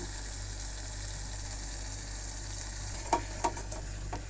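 Egg bhuna sizzles steadily in a pan after a splash of soy sauce, a constant hissing fry with a few sharp clatters of stirring near the end.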